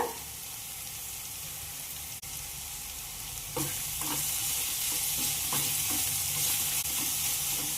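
Grated raw mango goes into a hot pan with spices and turmeric for mango chitranna, giving a steady close sizzle that swells louder midway, with light spatula scrapes and stirring taps over the frying.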